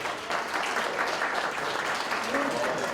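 Audience applause for panelists at a housing forum, a dense steady patter of many hands clapping continuously throughout, fairly loud and close, with some voices mixed in.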